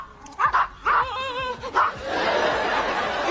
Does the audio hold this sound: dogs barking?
yes